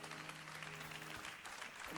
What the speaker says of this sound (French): Applaudissez pour prophète Ruben.